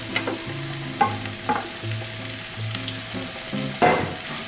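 Beef sizzles in a pan with fried onion, garlic and mushrooms, a steady close crackle broken by a few sharper scraping stirs, with no talking.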